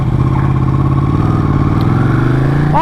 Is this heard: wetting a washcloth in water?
no